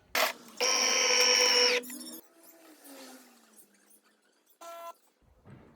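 De'Longhi Dinamica LatteCrema fully automatic espresso machine running: a loud, steady mechanical whir for about a second, a low fading hum afterward, then a short tonal beep-like burst near the end.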